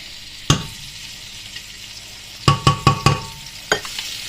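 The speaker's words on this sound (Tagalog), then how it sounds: "Yung ating giniling ay diretso gisa na." Ground meat and garlic being stirred in a hot pan, with a few sharp scraping knocks of a spatula against the pan over a low sizzle, one at the start and a quick cluster of four near the end.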